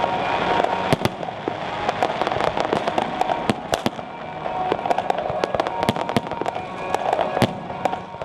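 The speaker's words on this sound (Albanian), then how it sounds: "një spektakël i vërtet fishek zjarësh" New Year's Eve fireworks in Skanderbeg Square, Tirana, give a continuous barrage of sharp bangs and crackling bursts over a dense, loud rumble. The blasts stay irregular but constant.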